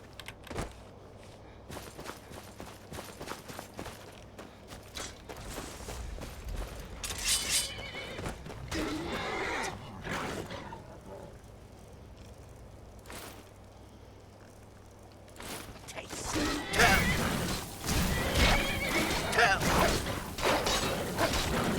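A horse neighs loudly over clip-clopping hooves and whooshing game-style effects in The Elder Scrolls V: Skyrim, with a second, louder burst of whinnying near the end.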